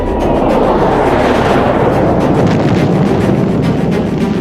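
Pakistani jet bombing explodes as a loud, continuous rumbling roar of blasts, dense and sustained throughout without pauses or voices.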